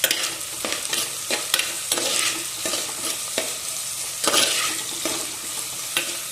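Bitter gourd frying with salt and curry leaves gets stirred in a hot pan, spatula scrapes and clatters recurring every second or so over a constant close sizzle.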